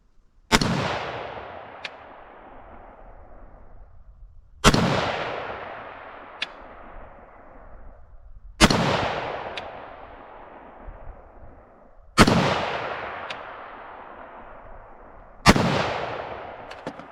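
Five loud 5.56mm rifle shots firing 77 grain OTM ammunition at a target range, spaced roughly every three to four seconds, each a sharp crack followed by a long rolling echo that decays before the next round.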